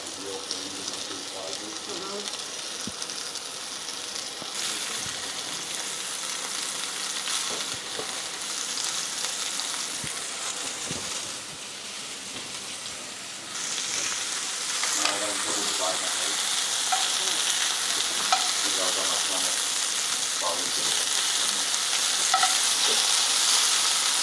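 Flour-coated beef tenderloin tips, seasoned with salt and pepper, sear in a pan with a steady loud sizzle and occasional stirring. The frying grows louder partway through, with faint talk in the background.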